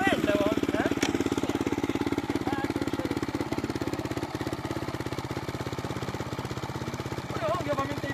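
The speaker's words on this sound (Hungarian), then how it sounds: "Olyan hangja van, mint egy vadúj motornak, semmi mellékzőlet nem volt." A new KEWS 450 motorcycle engine idles steadily nearby, a loud, even, rapid chugging that holds for several seconds with faint voices underneath.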